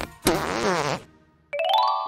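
A Takara Tomy Minions fart blaster toy gun lets out a long, wobbling fart noise, and after a short gap a rising electronic toy tone plays. Both are close and clear with no talking.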